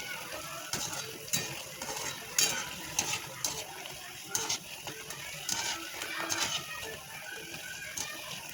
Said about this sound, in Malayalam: ഇങ്ങനെ പതുക്കെ തിരിച്ച് മറിച്ചു ഇളക്കി കൊടുക്കണം. കുറച്ച് എണ്ണയിൽ ചെയ്യുമ്പോൾ നമ്മൾ തന്നെ ഇളക്കി കൊടുത്തിരിക്കണം.